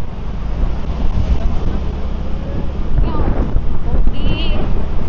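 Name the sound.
wind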